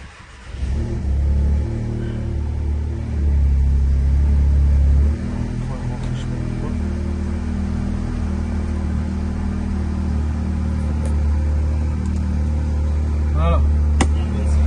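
An Audi S3 engine, running with 144,800 km on it, idles with a deep low rumble and rises in revs around the fifth second before settling back. It stays loud and steady throughout, with a few faint clicks near the end.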